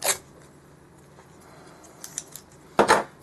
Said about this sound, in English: take a pair of scissors, and just like if I was going to make a ribbon bow or something, running my scissors along